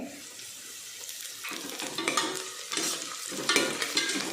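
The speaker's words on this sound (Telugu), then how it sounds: "ముందు ఆయిల్లో వేసుకుని వేయించుకోవాలి" Mint leaves for mutton curry drop into oil with ginger garlic paste, giving soft hissing and stirring scrapes that build into louder bursts of sizzle, close and alone.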